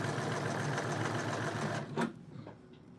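A home sewing machine runs steadily at close range, its rapid even mechanical chatter lasting about two seconds before stopping with a clunk, followed by quiet.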